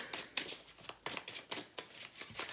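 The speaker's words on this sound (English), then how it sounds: "let me just shuffle my tarot cards for my Leos" Tarot cards being shuffled in quick repeated bursts of soft riffling and slapping, close and fairly quiet, with no talking.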